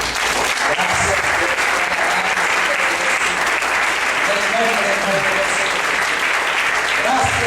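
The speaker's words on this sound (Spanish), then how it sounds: "Y el otro fuerte aplauso al Señor." A church congregation applauds loudly and steadily throughout, a dense wash of clapping with voices mixed in underneath.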